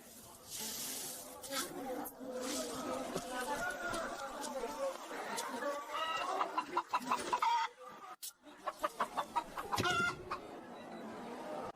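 Chickens cluck and squawk at a busy market, a dense chorus of fowl calls with rapid clucking bursts, mixed with crowd chatter and nearby talking.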